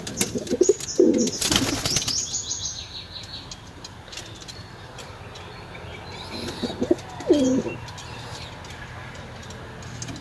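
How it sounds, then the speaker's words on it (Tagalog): Pigeons kept for breeding, nesting over eggs, give a couple of soft low coos near the start and again later, with a brief burst of wing flapping and faint chirps over quiet background. "Yan mga kalapatids."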